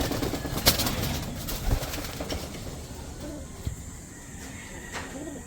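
Young breeder pigeons cooing softly in a loft, low murmuring coos with a brief wing flutter, steady and close amid faint background noise.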